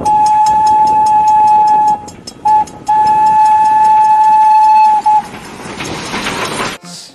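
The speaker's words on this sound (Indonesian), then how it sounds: "Di sini ada kereta Thomas" A shrill Thomas toy steam train whistle blows loud and close in long sustained toots, with a short break between, followed by a hissing burst.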